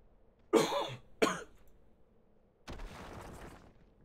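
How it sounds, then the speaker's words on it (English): Two sharp, close coughs about half a second apart come from a man with long-standing lung trouble, followed by a softer burst of broadband noise. "Sorry if I'm coughing more."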